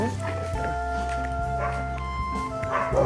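A Belgian Malinois dog barks and yips close by in short bursts, with people talking over it throughout.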